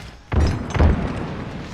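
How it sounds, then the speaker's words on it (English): Two heavy, booming thuds about half a second apart from grenade blasts in the Halo Infinite video game, loud and close, with a low rumble trailing after each. "I'll always try to bank my grenades"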